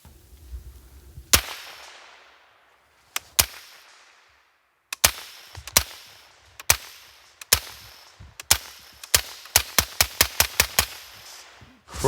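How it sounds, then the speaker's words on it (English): A firearm is fired outdoors in the open. There are sharp, loud gunshots, first single shots spaced a second or two apart, then a quicker run of about seven shots close together, each followed by a short echo. "Shooting it yourself out in the open instead of just a basement or something"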